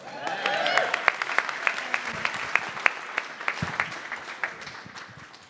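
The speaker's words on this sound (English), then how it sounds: "Round of applause for everyone." An audience at the Whole Earth Catalog 50th reunion lightning talks applauds the speakers, with sharp individual claps over a softer crowd wash and some voices and cheers mixed in at the start.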